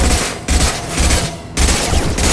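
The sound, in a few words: gunfire from the video game Mass Effect Legendary Edition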